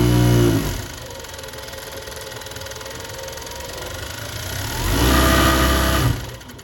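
A Consew CN-897VC coverstitch sewing machine runs fast in loud, steady bursts. It whirs up at the start, drops to a quieter hum, then surges loud again before slowing at the end.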